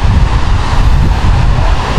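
Strong monsoon wind blowing by the sea, a loud, steady roar buffeting the microphone with the low wash of choppy waves beneath it, no voices.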